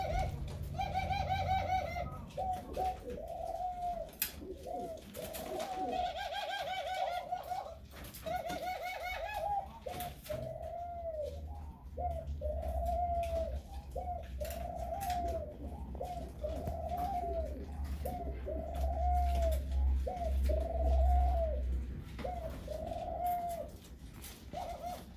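Laughing doves in a breeding loft give repeated soft cooing calls in a steady rhythmic series, with a few brief chirps and faint background rustle and hum.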